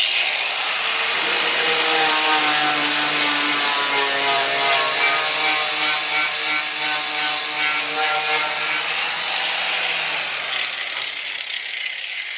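Rust being ground or wire-brushed off the front fender of a Mercedes W109/W108, a steady loud abrasive whir with a rising and falling pitch that runs almost the whole stretch before tapering off near the end.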